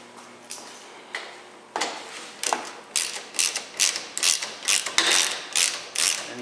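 A ratchet tightens cargo rack bracket bolts, starting with sparse clicks and building into quick regular ratcheting strokes, close and clear.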